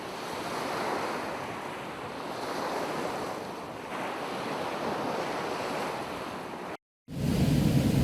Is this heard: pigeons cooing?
no